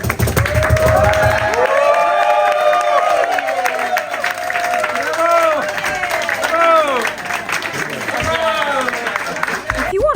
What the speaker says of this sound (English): the crowd clapping along to one of my own songs that I wrote myself